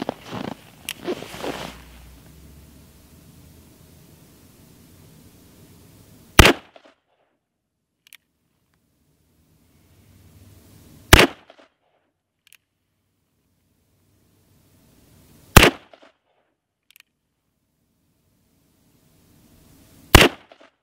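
A Cimarron Bad Boy rifle fitted with a red dot sight fires four single shots, spaced several seconds apart, each a sharp loud crack with quiet gaps in between, after brief handling noise.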